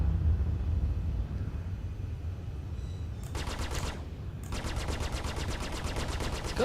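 A Star Citizen M50 spaceship in the Alpha 2.5 game sweeps past with a roaring whoosh, followed by bursts of rapid, buzzing weapon fire in two long strafing runs over a steady engine rumble.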